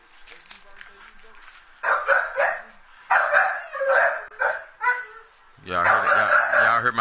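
A large pit bull barks in a few loud bursts, ending in a sustained, deep, harmonic bark or growl up close, with a voice talking in between.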